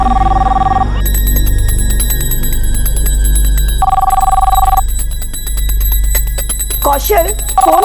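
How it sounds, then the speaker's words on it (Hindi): A landline telephone rings in a household in repeated bursts of electronic trilling, loud and close, with voices talking over and between the rings. "फोन तो उठा लेता ना"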